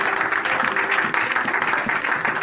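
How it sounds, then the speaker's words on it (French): A church congregation at a French-language Sunday service breaks into sustained applause, a dense, continuous wash of many hands clapping together in a reverberant hall. "Acclamons le Seigneur."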